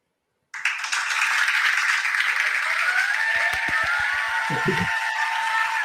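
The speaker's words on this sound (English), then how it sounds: "Applause, applause, applause!" Audience at a poetry reading breaks into applause after the last poem: a sudden, dense wash of clapping that starts at once and holds steady and fairly loud, with a few deeper thumps partway through.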